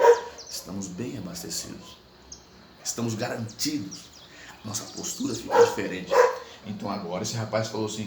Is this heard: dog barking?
yes